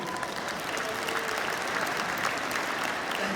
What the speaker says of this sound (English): That wasn't an applause line.